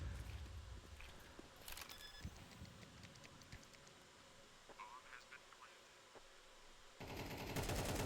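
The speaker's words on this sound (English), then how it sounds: "bullets flying in" Gunfire in a Counter-Strike esports match, with bursts of automatic and single shots at moderate distance, quiet in the middle and louder again at the end, all heard under a commentator's voice.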